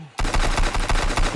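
Pistol fired in the video game Sunkenland, a rapid burst of about eight sharp, evenly spaced shots, loud and close, with no talking.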